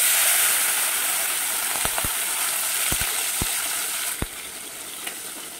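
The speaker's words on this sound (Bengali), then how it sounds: "আর এই বান মাছ ভাজা হচ্ছে" Eel pieces coated in turmeric and salt fry in smoking-hot oil, a constant loud hiss and sizzle with a few sharp pops and clicks scattered through.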